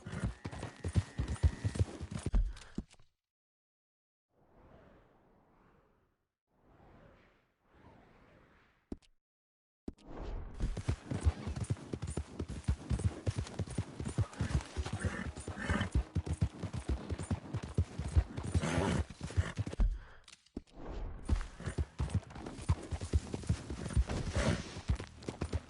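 Horse hooves clip-clop and gallop in the Red Dead Redemption 2 game, loud close rhythmic beats that stop for a quiet stretch with faint sounds, then resume hard and continuous to the end.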